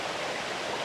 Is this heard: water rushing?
yes